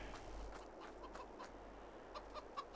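Chickens cluck softly in a Farming Simulator 22 farmyard, several short, faint calls scattered over a low ambient hum, growing a little more distinct near the end.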